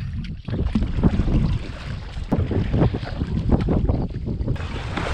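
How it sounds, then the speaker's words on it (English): A tiny speedboat being paddled toward the shore near Great Orme on open sea, with water sloshing and splashing under steady, loud wind buffeting the microphone; no voices are heard. "Okay, right, paddling to shore."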